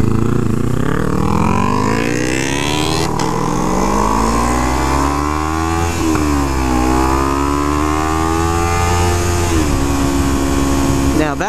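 A Kawasaki Ninja ZX-3R motorcycle engine under way, rising and falling revs as gears change, loud and close with wind noise, no clear talk over the continuous engine drone.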